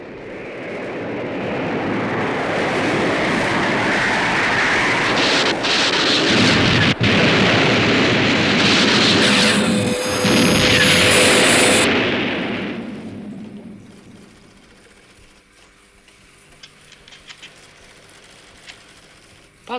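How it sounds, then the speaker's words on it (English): Missile launch and impact sound effect from the 1970 TV series UFO: a long, loud roaring whoosh that builds and sustains for about twelve seconds, then fades into a quieter electronic tail with scattered beeps. "Missile timing 1475. Missile launch,"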